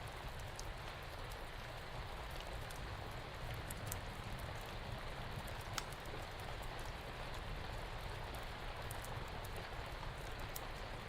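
Steady rainfall patters down without pause, a dense wash of drops hitting surfaces with scattered sharper ticks, even and unbroken throughout.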